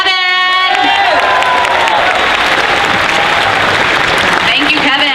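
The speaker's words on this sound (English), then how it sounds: "Give a big round of applause to Kevin!" An audience at a Dragon Con costume contest applauds and cheers loudly and without a break. A short musical sting opens the clip, and whoops and crowd noise run under the clapping.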